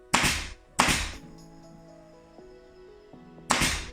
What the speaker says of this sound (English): I use my finger to hold it down and then staple it with the gun on the line that I need to staple it